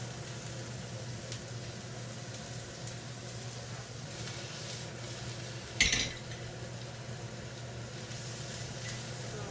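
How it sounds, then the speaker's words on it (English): Eggs cooking in a pan for penne egg fried rice give a steady, even sizzle and frying hiss close by, with one brief utensil clatter partway through and no talk. "And you want to put in eggs next."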